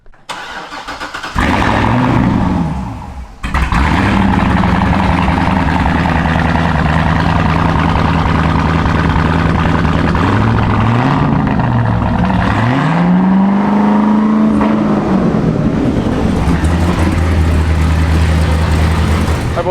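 C6 Corvette Z06 with a new camshaft cranks and fires up, a brief starter whir before the engine catches, then settles into a loud, close, choppy idle with several blips of revving.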